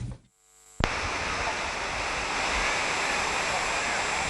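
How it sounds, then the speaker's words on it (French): Large waterfalls cascading down between two rocky cliffs at Oued El Barda, a dense, loud, continuous roar of falling water that cuts in abruptly after a brief quieter moment. "Le site de Oued El Barda est encastré entre 2 flancs rocheux, d'où coulent de grandes cascades."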